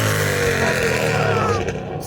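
Ford Mustang GT 5.0 V8 with no exhaust fitted, roaring loud and close in a sustained raw engine blast that eases off slightly at the end.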